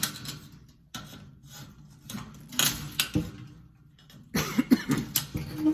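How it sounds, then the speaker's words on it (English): Person coughing in a dusty workshop while building a custom truck bench seat, several sharp coughs scattered through the clip among clunks and handling noises. "Sorry about coughing"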